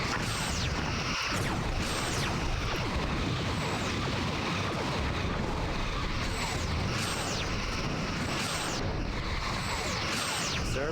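Torpedoes launched at an enemy ship in Star Trek: Bridge Commander, a dense wall of repeated whooshing bursts and crashing impacts over a constant roar, loud and unbroken.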